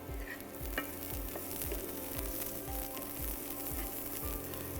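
Onions sautéing gently over a low flame, a steady soft sizzle with occasional stirring scrapes, continuous and close with no talk.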